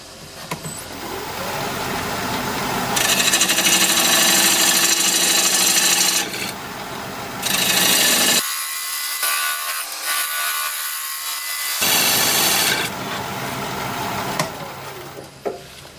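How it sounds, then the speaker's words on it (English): A wood turning tool is ground sharp against a spinning grinder in several long, loud, harsh passes, each with a brief quieter gap between. "I am going to go sharpen up,"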